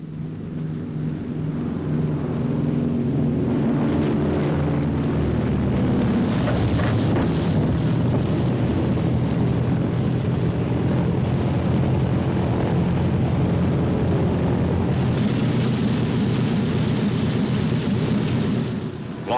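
A smoking Navy plane landing on an aircraft carrier, heard as a loud, steady roar of engine and wind rushing across the deck for the whole stretch, with no talking.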